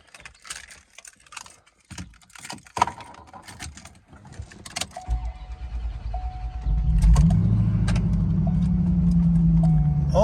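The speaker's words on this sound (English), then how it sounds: "the engine has to make a revolution or two for the computer to find the crankshaft position and fire the engine" A 1991 Corvette ZR1 is started after a few clicks and rustles in the cabin: the starter cranks for a revolution or two, then the engine catches and settles into a loud, steady idle.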